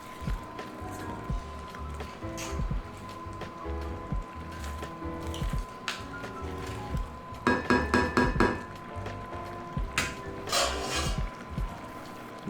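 A utensil scrapes and clinks against a metal pot, stirring shrimp rosé risotto with clams, in repeated stirring motions, with a few sharper rattling bursts and a low background hum.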